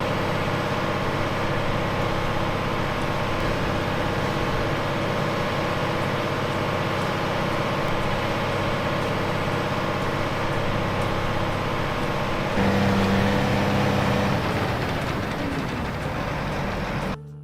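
A John Deere X9 1100 combine with a Flex Draper header harvesting rapeseed, a continuous loud mechanical roar and rattle with a steady low drone, shifting in tone near the end.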